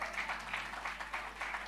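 An audience at a fashion business talk claps quietly in a loose rhythm, with faint, distant bursts of clapping rising and falling over a low steady hum.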